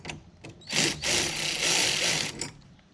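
Rapid ratcheting on the 10mm nut of the positive battery cable in a 2015 Chevy Malibu, close and loud, a couple of quick clicks then a sustained two-second burst of dense clicking, with no talk over it.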